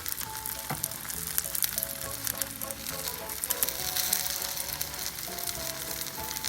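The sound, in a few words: stuffed French toast frying in a pan, second side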